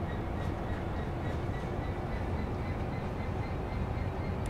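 A train runs in the Train Sim World simulator on the Great Western Express route, giving a steady, dense rumble and rolling noise that holds evenly throughout with no clear individual clicks.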